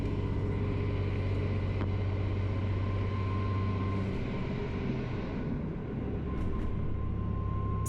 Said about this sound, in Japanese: ちょうど対向の列車が来た。